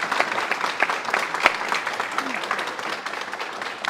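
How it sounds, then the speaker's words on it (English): Applause from a workshop audience at a worship conference: sustained, fairly dense clapping from a mid-sized crowd, even in level, with a few sharper individual claps standing out. "I think she deserves a really big applause for that."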